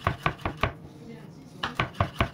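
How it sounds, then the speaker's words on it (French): A kitchen knife chops a large garlic clove coarsely on a cutting board in quick, sharp, evenly spaced knocks. A short pause falls mid-way before the loud, close chopping resumes, with no talk. "Donc, on coupe l'ail."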